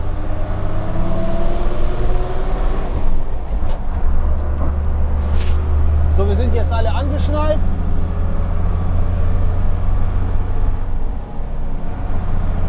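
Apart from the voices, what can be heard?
old IVECO Magirus THW truck driving, loud with open back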